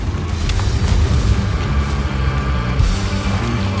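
Heavy booming gunfire from a Leopard tank cannon in a video game, with deep blasts and rumbling echoes in a game-like battle soundscape, loud and repeated.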